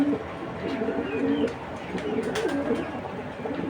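A pair of white racer pigeons coo close by in repeated rolling, throaty phrases, loud and clear, with faint chirps in the background.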